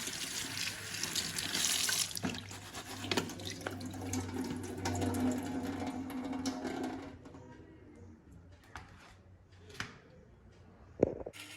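Greens are washed under a running kitchen tap in a sink for a Kerala-style thoran, with a loud continuous water rush that fades after several seconds into quieter handling, splashes and clinks.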